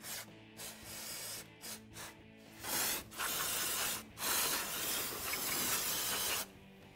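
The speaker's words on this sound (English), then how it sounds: "residual oil in here up with some contact cleaner" Contact cleaner sprays in bursts onto KTM 690 / Husqvarna 701 engine cases to flush out residual oil, a close, loud hiss of several short blasts followed by longer sustained sprays.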